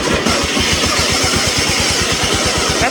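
A homemade racing mower engine pulls away in first gear with a loud, close, rapid rhythmic chugging and pulsing exhaust under broad wind and mechanical noise.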